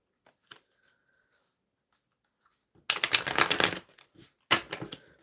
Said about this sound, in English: Shuffling for Abraham towards Liam.